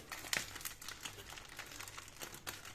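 Packaging crinkles and crackles in quick bursts as well-wrapped parcels are opened, fairly faint and close, with one sharper tearing snap near the start.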